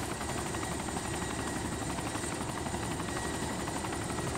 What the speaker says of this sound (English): I hear a chopper off to my right.